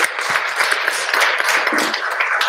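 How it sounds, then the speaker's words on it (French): Audience applause at a gathering in a hall, a dense burst of many hands clapping together, close and fairly loud, steady for a couple of seconds without a break. "Je crois qu'on peut applaudir cette incise"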